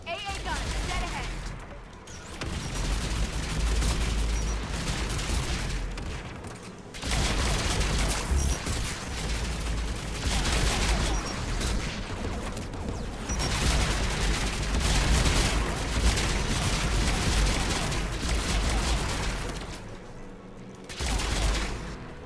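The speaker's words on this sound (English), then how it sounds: "AA gun, dead ahead." An anti-aircraft gun in Mass Effect Legendary Edition pounds out sustained bursts of heavy fire, long rolling barrages broken by short pauses, loud and close over a low rumble, with a voice speaking between bursts.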